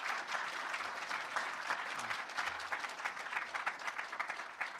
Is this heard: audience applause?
yes